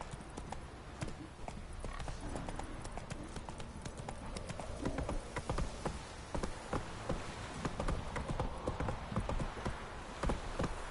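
Roach the horse galloping in The Witcher 3, a rapid, steady run of hoofbeats close up over game ambience, with faint talk in the background.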